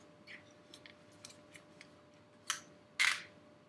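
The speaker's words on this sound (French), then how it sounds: "On plie comme ça, on tourne." Bose OE2i headphones folded and twisted by hand, a run of faint plastic clicks and ticks followed by two louder, sharper snaps near the end, all close and quiet.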